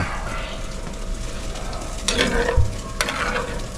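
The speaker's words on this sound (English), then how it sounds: "we'll put them in the pan and start frying them" Australian Wagyu ribeye steaks fry in a hot pan during high-temperature cooking, with a steady close sizzle and a few brief louder bursts of spattering and clatter near the end.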